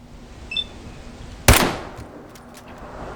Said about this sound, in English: First things first, let's just take a couple of VATS shots.